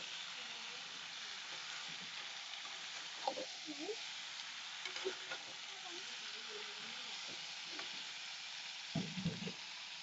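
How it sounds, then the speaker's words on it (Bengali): Duck meat sautéing in a pan gives a soft, steady sizzle and hiss, broken by occasional light scrapes and knocks as it is stirred, fairly quiet throughout. "এই তো নাড়াচাড়া করার পর কিছু পরিমাণ কষিয়ে নেব"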